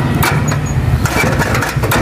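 Motorbike engine turning over and catching outside, a loud close sputtering rumble with clattering bursts settling toward an idle, no voices.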